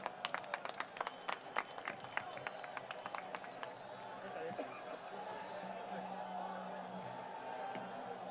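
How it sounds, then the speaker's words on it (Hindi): A crowd at a political rally in Surat, Gujarat claps loudly in a burst of sharp, scattered applause, which then fades into a broad murmur of crowd noise and chatter. "जोरदार तालियों के साथ स्वागत करें।"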